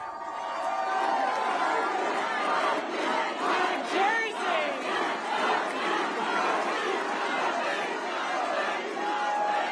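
A large election-night crowd roars and shouts continuously, a dense wash of cheering and screaming voices filling the whole stretch without pause.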